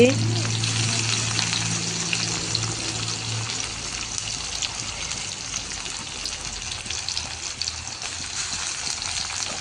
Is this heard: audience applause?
no